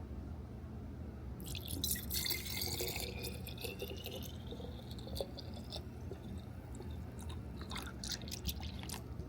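Coolant gurgles and bubbles steadily for several seconds in a YagerWerx intercooler reservoir while the system is bled, over a constant low engine hum, close by.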